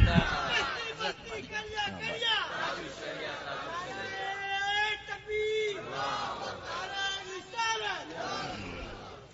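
A crowd chants religious slogans at an Islamic speech, many voices shouting in repeated, rhythmic bursts with call-and-response swells, fairly close and loud.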